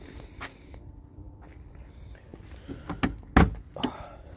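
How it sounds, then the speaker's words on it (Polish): A Polonez car door being worked and shut, with soft handling noises and faint movement followed by a sharp, close thud of the door closing near the end, and a smaller knock just after. "Drzwi już się zamykają ładnie, są dobrze spasowane."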